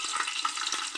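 Green chillies fry in a mix of ghee and oil, giving a close, steady hiss and crackle with small pops, and no voices.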